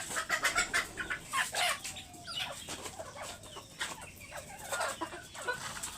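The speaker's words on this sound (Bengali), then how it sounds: "মুরগিগুলা আমাকে দেখে ভয়ে ছোটাছুটি করতেছে।" A flock of farm chickens clucks and scurries about during morning feeding, with rapid overlapping clucks, squawks and bursts of wing flapping, near and moderately loud, with no talking.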